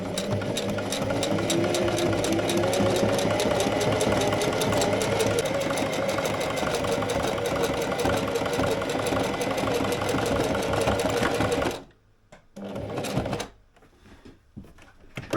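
A sewing machine stitches cloth for boat stowage covers, a fast, even mechanical rattle running loud and close for about twelve seconds before it stops, followed by a brief restart.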